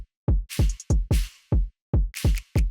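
A punchy drill drum loop with deep booming kicks, crisp hi-hats and sharp snaps in a sparse, syncopated rhythm, played alone with no voices.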